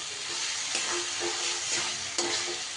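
Ground coriander and cumin being stirred into pumpkin cooking in a pan, a steady sizzle and frying hiss under repeated scraping strokes of a spoon, close and continuous, with no talk.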